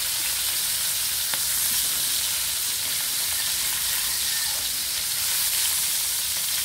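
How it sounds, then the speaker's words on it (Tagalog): Pork fries in a little oil in a pan, giving a steady, close, dense sizzle and crackle that holds at an even level with no talk over it. "atin mo ng konting prituhin ang pork"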